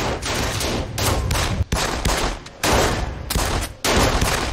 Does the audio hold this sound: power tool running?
no